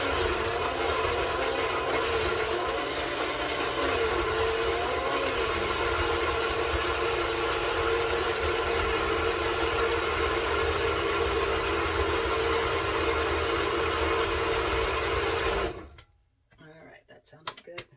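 A blender whirs steadily through cabbage and cashew mayo for coleslaw, a loud continuous roar that cuts off abruptly near the end, leaving faint clatter.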